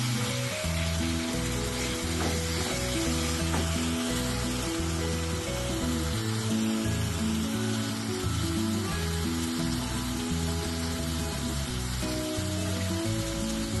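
Spice paste frying in a pan for a Bengali wedding-style rohu fish roast sizzles continuously. A loud, steady tonal musical backing runs underneath, and no one speaks.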